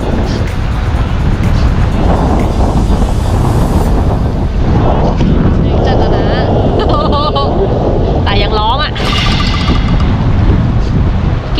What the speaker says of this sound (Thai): ไม่กล้ายืนเลยอ่ะลมแม่งแรงเกินอ่ะ